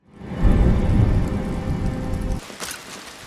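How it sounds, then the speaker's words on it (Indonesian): Heavy rain pours in a thunderstorm, with deep thunder rumbling underneath. A dense, loud roar fills the first few seconds, then eases into a softer patter. "Di tengah aktivitasnya, hujan lebat melanda"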